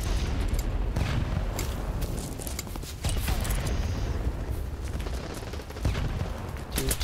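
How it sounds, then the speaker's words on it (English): A grenade goes off in the BattleBit shooter amid a noisy firefight, its heavy boom folded into dense, continuous gunfire and battle clatter, close and loud throughout. "That's a good grenade."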